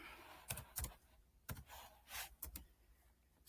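Sparse keystrokes tap on a computer keyboard in short irregular clusters, quiet and close, with faint room background and no speech.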